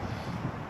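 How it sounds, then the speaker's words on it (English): Wind gusts across an outdoor hiking campsite, a brief, dense rush of steady blowing noise buffeting the microphone with no voices. "And it's quite windy"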